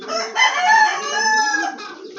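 A rooster, father of a brood of chicks, crows once loud and close, a drawn-out cock-a-doodle-doo lasting about two seconds.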